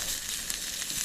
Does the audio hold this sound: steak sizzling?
yes